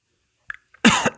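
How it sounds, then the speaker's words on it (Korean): A single sharp cough bursts out close and loud, with a short throat catch just before it and a brief rasp at the tail. "죄송합니다. 기침을 해가지고."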